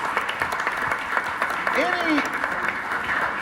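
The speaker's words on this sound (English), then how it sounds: "Give them a round of applause, guys." An audience applauds at a Martin Luther King Jr. commission event in Arkansas, moderate steady clapping throughout with a brief voice cutting in near the middle.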